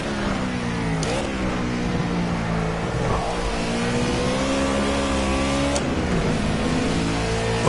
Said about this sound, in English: the sound of this car as well always makes you feel like you're going very, very slow, because the gears are so long